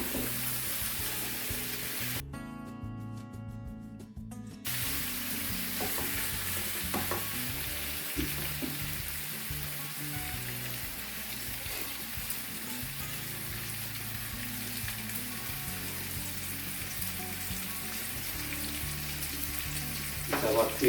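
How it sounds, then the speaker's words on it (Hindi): Sliced courgette curry fries in oil in a pan while being stirred, a long steady rain-like sizzle with soft scraping and stirring sounds throughout and a brief quiet gap near the start. "अब इसको हम मिक्स कर देंगे इसमें। हम थोड़ा सा इसके अंदर और ऑयल डालेंगे।"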